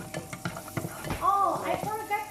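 Butter sizzling in a pan, close and steady, with a few utensil taps early on and a voice talking over the latter half.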